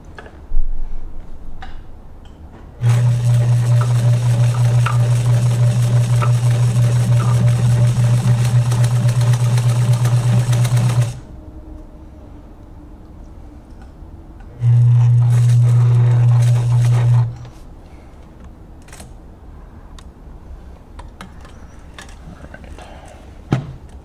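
A Kenmore 1207 sewing machine stitches through a suspender waistband in two runs, one long and one short, each a steady, loud, fast mechanical whir with a rapid tick, with quiet gaps between.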